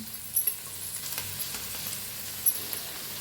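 Chopped fenugreek leaves sizzle and crackle in hot oil while being stirred with a spatula, a steady close frying hiss broken by a few scraping taps.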